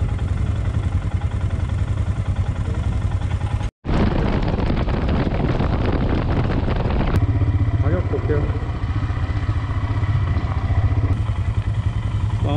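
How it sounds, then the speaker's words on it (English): A Royal Enfield Himalayan motorcycle rumbles steadily nearby, its low engine drone running under conversation with wind noise, briefly cutting out before resuming and settling into a smoother idle. "You got an Enfield?"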